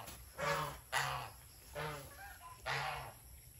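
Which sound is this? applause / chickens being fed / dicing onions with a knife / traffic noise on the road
chickens being fed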